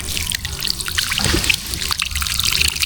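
Water poured by hand onto dwarf coconut seedlings on a farm in hot weather, a steady close trickle and splash running without a break.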